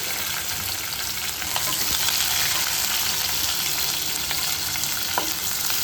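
Curry leaves, small shallots and a green chili sautéing in hot oil for tomato rasam, a steady dense sizzle with occasional pops and crackles throughout, close and fairly loud with no talking.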